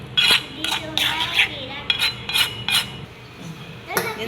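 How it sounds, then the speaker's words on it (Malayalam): A metal vessel clinks and clatters against a bowl of homemade henna paste several times, close by, in short uneven knocks as it is set over the top. "നമുക്കിതൊന്ന് ഒരു പാത്രം എടുത്ത് മൂടി വെക്കാം"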